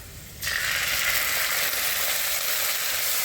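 Ginger, cumin and garlic paste with turmeric hits hot oil for a yogurt fish curry, bursting into a loud, steady, close sizzle that holds without pause.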